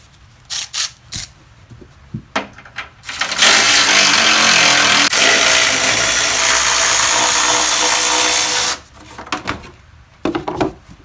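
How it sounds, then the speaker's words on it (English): A power tool runs in one long, loud, steady burst of about five seconds while removing bolts from a plastic transmission cover on a 4L60E gearbox. Light knocks and handling noises come before and after it. "You're gonna want to remove this plastic cover right here. It's gonna be held down by 50mm bolts."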